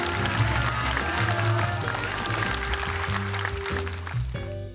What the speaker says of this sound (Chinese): 我们所有朋友再给他们掌声